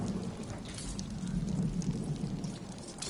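Steady rain pours down in a stormy alien setting from Marvel's Guardians of the Galaxy, a dense hiss with a low rolling thunder rumble underneath, continuous and fairly distant throughout.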